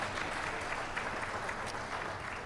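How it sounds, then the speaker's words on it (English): School band winter concert audience giving a round of applause, a dense, even wash of many hands clapping steadily throughout. "If you give him a round of applause."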